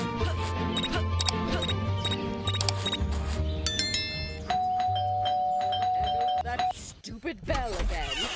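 A doorbell rings repeatedly in the Scary Teacher 3D video game, bright chiming ding tones over game music, with a voice talking briefly near the end.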